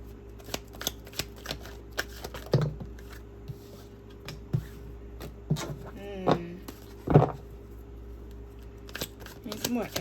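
Tarot cards being shuffled by hand, crisp papery riffles and flicks repeating in short irregular bursts, fairly close, with soft background room noise and a low steady hum.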